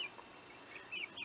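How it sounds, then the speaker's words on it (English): Chickens clucking outdoors near garden grow beds, a few soft, brief high chirping clucks over a faint background hum, short and not very loud. "Hey, there's chickens."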